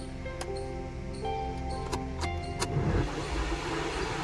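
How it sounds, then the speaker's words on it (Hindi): The AC blower motor of a Mahindra Bolero runs slowly with a steady low whir and hum, broken by scattered faint ticks and clicks, with a rougher rumble toward the end. "आपको आवाज़ भी सुना देता हूँ ब्लोअर की कितनी स्लो"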